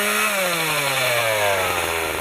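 A chainsaw cuts into a tree while felling it, its engine loud and close with a steadily falling pitch as it bogs into the wood, continuous throughout.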